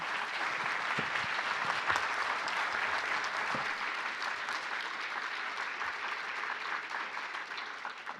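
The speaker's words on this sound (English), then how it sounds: "we need a big applause for our panel" Steady applause from an audience at a church restructuring discussion panel, sustained and fairly dense for the whole stretch, heard at a moderate distance with no talk over it.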